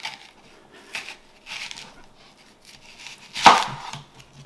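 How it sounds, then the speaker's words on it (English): A knife chops an onion into four pieces on a board: a few separate, close cuts spaced a second or so apart, the last one noticeably louder and sharper. "I just kind of cut it up into 4 pieces like that"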